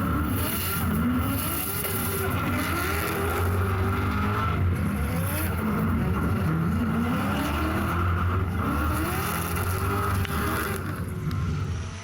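Drift cars at the Australian Drifting GP, heard on board during a run: a loud, continuous engine roar with rising and falling revs and tire squeal, with no talking.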